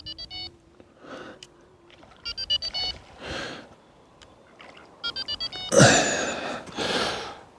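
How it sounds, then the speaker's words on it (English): Carp fishing bite alarms being switched on at a lake sound electronic beeps in short spaced bursts, some single tones and some quick runs, close by with rustling and handling noises between them. "let's turn the alarms on"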